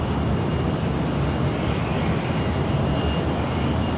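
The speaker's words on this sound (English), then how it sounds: "That was SkyWest 6271 coming in from Missoula on an Embraer E175" A SkyWest Embraer E175 airliner lands at LAX. A steady, broad jet roar sounds at moderate distance, mixed with wind rumble on the microphone and no distinct peaks.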